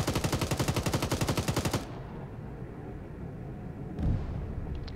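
Rapid machine gun burst in a ShackTac combat game: about twenty evenly spaced loud shots in under two seconds, then a lingering rumble and a distant thump near the end.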